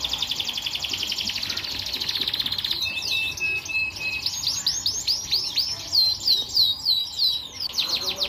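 Several canaries at a breeder's aviary chirp and trill in quick repeated bursts, a dense high twittering that carries steadily from start to finish, fairly close and with no talking.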